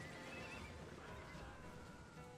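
Horses neighing amid battle in the strategy video game Cossacks 2, a dense, steady wash of whinnies with hoof clatter and game noise throughout, fairly loud and without talk.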